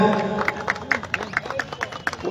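At an outdoor award ceremony on a parade ground in Ghatal, a crowd claps in scattered, fairly quiet bursts over background murmur and a sustained tonal voice or music.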